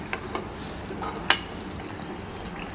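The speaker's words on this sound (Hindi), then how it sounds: "अब इसके अंदर मैंने पानी वो जो स्टॉक था चिकन का डाल दी चिकन के साथ में" Chicken stock poured into a coconut Bohra chicken curry gravy in a pot, a soft liquid splashing and filling with a few small knocks and clinks, close and moderate, no talk.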